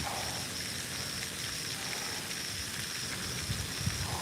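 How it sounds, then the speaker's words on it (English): Light rain falls outdoors early in the morning on a bass fishing trip, a soft, even hiss with faint scattered patter and a few small taps near the end. "it's raining a little bit"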